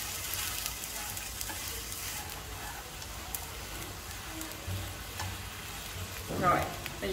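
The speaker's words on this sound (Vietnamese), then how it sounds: "bây giờ mình nấu cho cái đường nó tan ra ha" Sugar cooking in a pan until it melts, as the start of a braised goby fish dish, gives an even, quiet bubbling sizzle with a brief louder scrape near the end, alone without talk.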